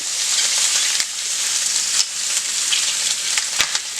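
Chicken frying in a pan, a loud, steady close-up sizzle with dense crackling spatter and a few sharper pops and clicks scattered throughout.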